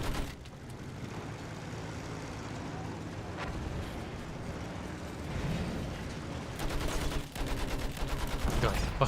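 Gunfire in the New World game, a dense ongoing barrage of shots and bursts layered with loud game ambience, getting heavier and more rapid toward the end.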